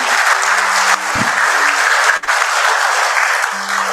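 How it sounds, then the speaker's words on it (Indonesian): Audience at a company tribute ceremony applauds, a dense, sustained wash of clapping from a large crowd that continues steadily throughout. "Aplaus dulu untuk kita semuanya."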